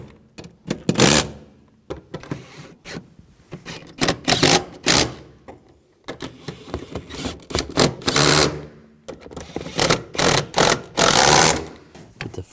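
Ratchet or tool tightening fuel pump assembly bolts on a 2013-2020 Nissan Pathfinder, loud close bursts of rapid mechanical clicking and whirring in repeated runs separated by brief pauses.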